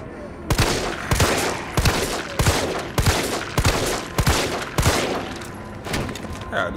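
Rapid gunshots from the Resident Evil 3 Remake video game, a steady run of about a dozen sharp cracks spaced roughly half a second apart, loud and close, with faint background game noise between shots.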